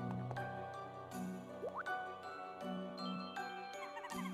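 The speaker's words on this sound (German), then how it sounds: "Diese Maschine pumpt wohl das Wasser hoch." Water-pumping machine at a fountain in the video game Mario & Luigi: Dream Team, heard as a steady layered mechanical hum with dripping, tinkling liquid notes and a brief rising squish, continuous at moderate level over game music.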